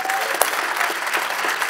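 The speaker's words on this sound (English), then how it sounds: "Let's give them a round of applause." Dense, steady applause from a church congregation fills the space, a continuous wash of many hands clapping at even loudness throughout.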